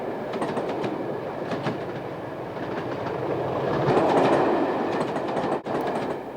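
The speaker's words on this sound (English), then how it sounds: "This train is en route from Skegness to Derby." A Class 20 locomotive-hauled passenger train running from Skegness to Derby rumbles past, with steady clickety-clack from the wheels over rail joints and a brief swell in the middle, continuous and fairly close.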